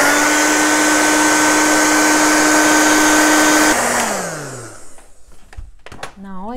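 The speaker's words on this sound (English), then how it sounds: "If it's too wet, you can use hair dryer" A hair dryer blows steadily and loudly on an air dry clay vase, then is switched off and winds down, followed by handling noises.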